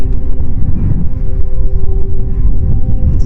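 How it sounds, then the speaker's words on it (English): Strong wind blowing outdoors on a cold day, a steady low rumble with buffeting gusts against the microphone, continuous and loud throughout with no voices. "Today is a very windy day,"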